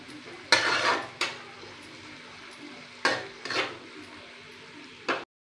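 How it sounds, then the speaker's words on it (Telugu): Onion and capsicum being stirred in a hot pan for egg fried rice, with several sharp scraping strokes of a spatula over a faint background sizzle, separated by quiet gaps. "ఉల్లిపాయ కొంచెం వేగింది ఇప్పుడు క్యాప్సికమ్ వేస్తున్నాను"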